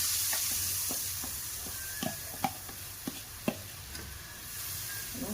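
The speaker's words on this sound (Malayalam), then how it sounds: "ഇത് ഇവിടെ ഇരുന്ന് ഒന്ന് തിളക്കട്ടെ" A thick coconut-milk chicken masala sauce bubbles and sizzles gently in a pan, with occasional soft pops and utensil scrapes, fairly quiet and steady.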